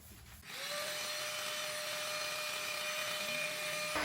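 A heat gun blows steadily on a dented, painted plastic car bumper, a continuous close airy roar with a faint whine that starts abruptly and holds for about three and a half seconds.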